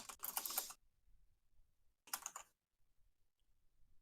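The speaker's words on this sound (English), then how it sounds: "As someone's keyboard begins thundering." Two short, fast bursts of loud computer keyboard typing, a clattering flurry at the start and another about two seconds later, separated by near silence.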